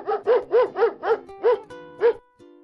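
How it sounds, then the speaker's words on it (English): A dog barks in a quick run of about seven sharp, evenly spaced barks close by, followed by a brief whine, heard alone. "The verb is barked. It's what the dog is doing."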